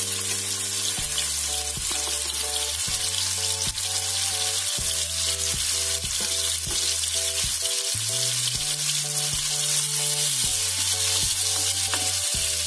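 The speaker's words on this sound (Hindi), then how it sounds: "एक एक करके देखिए सारा मीडियम फ्लेम में फ्राई" Chicken tikka pieces fry in a pan on a medium flame with a steady, close sizzle, while a low tonal hum shifts pitch in steps beneath it, and no one speaks.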